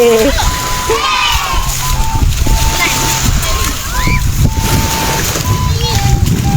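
Sea waves at Jomtien Beach wash and splash steadily, a loud, continuous surf with sloshing water close by, while voices call out faintly in the distance.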